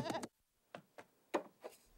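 A goat bleats in several short separate calls, fairly close and loud, with a brief burst of other sound at the start.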